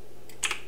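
Typing on a computer keyboard, a quick pair of crisp key clicks heard close and alone against a quiet background.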